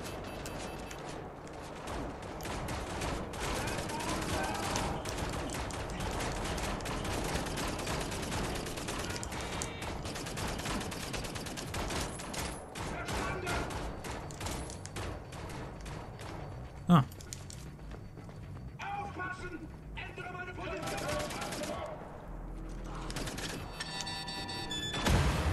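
Turret gunfire in the shooter game Wolfenstein: The New Order, a steady distant rattle running under a dense layer of game noise and speech, with one sharp boom near the middle.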